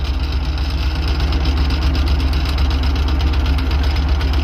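A T25 tractor engine runs steadily up close with its hydraulics working, a loud, even idling rumble with a regular knocking pulse and a constant mechanical whine throughout.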